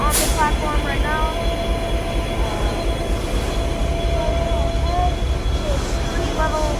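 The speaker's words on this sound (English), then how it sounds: "this is our locomotive. We are on the platform right now." Via Rail locomotive at the platform of Gare Centrale in Montreal, a steady diesel rumble and hum with squealing, screeching wheel or brake tones, people talking faintly nearby.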